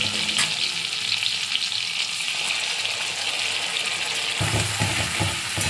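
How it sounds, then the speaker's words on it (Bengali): Ground spice paste frying in a pan after tomato, a steady close sizzle that turns into rougher bubbling and stirring clatter near the end. "বাটা মশলাটা ভালো করে কষিয়ে নিয়ে তারপর আমি জল দেবো"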